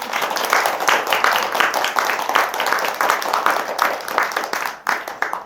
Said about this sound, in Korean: 우리 동요 스님께 박수 한번 주십시오